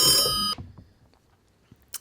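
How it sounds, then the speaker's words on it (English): A telephone rings loudly and steadily for about half a second with a bright electronic tone, then cuts off, leaving quiet room sound with a couple of faint knocks. "Oh, the phone is ringing."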